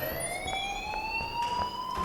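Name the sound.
fire alarm ringing at school, from video game Life is Strange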